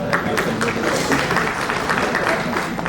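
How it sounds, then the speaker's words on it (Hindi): An audience at an entertainment event claps in loud, dense applause that fills the whole stretch steadily, with crowd noise mixed in. "ताली बजा दीजिए।"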